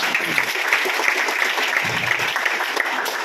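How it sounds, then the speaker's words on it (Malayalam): An audience at an anniversary celebration gives a leader a warm round of clapping, dense and continuous, with faint voices mixed in. "ആ കൊണ്ടുവന്ന ലീഡർക്ക് നല്ലൊരു കൈയടി കൊടുക്കുക"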